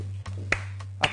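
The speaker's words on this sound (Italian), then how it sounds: "Riccardo si fa l'applauso da solo." Riccardo claps for himself in a TV studio: four slow, separate hand claps, fairly faint, over a steady low hum, with no one talking.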